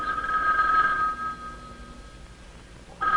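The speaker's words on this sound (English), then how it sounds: "Now the phone rings." A 1960 Bell System telephone bell rings in an empty farmhouse, a clear metallic ringing burst that stops, then starts again briefly after a quiet gap.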